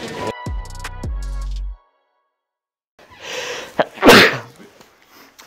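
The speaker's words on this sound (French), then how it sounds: "Ça, faudra le mettre dans le reportage que les arbitres, ils éternuent." A basketball referee in a locker room sneezes once after a short humming tone and a pause, a sharp loud burst close to the microphone followed by a few faint breaths.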